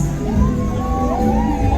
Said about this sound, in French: Accompagné de cris de joie.